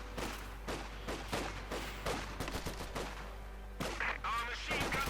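Rapid bursts of machine-gun and rifle fire mixed with heavier artillery booms sound in a Company of Heroes 2 battle, dense and repeating throughout, with speech partly audible under the gunfire.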